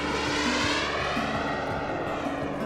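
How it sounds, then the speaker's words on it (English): RC jet planes roaring at the 2020 Jet Jam, a large radio-controlled jet gathering, a loud steady engine rush with a sweeping tone that suggests a fly-past, close and continuous, no voices. "we're here at the 2020 Jet Jam, very important gathering for the RC jet plane community"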